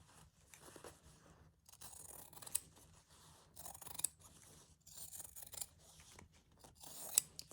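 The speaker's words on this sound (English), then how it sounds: "I'm just going to cut through there." Scissors snipping through a crocheted doily in a sewing setting, with a series of close, crisp cutting crunches in short clusters, quiet overall, and no talking.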